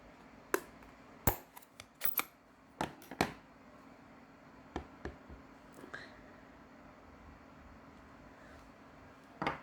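Scissors cut out a stamped paper greeting label for a handmade card, a string of crisp close snips with gaps, quiet room tone between them.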